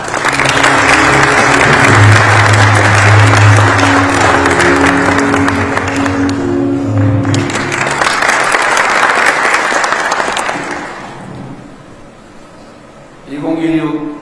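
Large audience at a ceremony welcoming the Milano Cortina Winter Olympics national team gives loud, sustained applause that swells, dips briefly and fades out, followed by a short burst of speech near the end.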